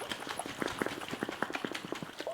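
A jar holding calcium powder and water is shaken hard, giving a fast, steady rattle and slosh of rhythmic knocks, close and continuous.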